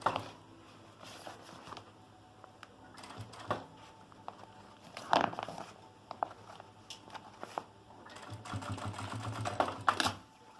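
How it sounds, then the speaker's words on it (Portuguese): Short bursts of machine stitching along the seam of a toiletry bag with a clear window, broken by pauses as the presser foot is lifted and the fabric turned, with light handling clatter in between. "na voltinha eu ergo o calcador, costuro, ergo um pouquinho, costuro, ergo de novo, costuro"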